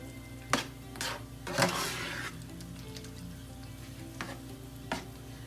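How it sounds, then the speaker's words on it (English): A spoon stirs a canned chicken mixture with seasonings in a bowl, giving soft scraping and squelching sounds in a few irregular strokes, close and quiet. "Now let's stir this up. Combine everything."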